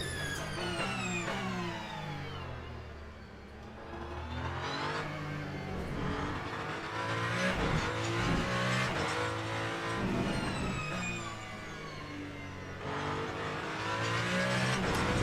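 Race cars including an LMP2 prototype and a Ferrari in Le Mans Ultimate at Fuji, engines revving and howling continuously as they downshift toward a hairpin, loud and steady throughout with layered engine whines.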